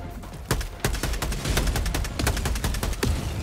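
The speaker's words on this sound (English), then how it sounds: "So I put up a mortar." Mortar strikes in Helldivers 2, a rapid run of sharp, loud explosive blasts and gunfire bursting repeatedly over a dense, noisy battle din, with no talking.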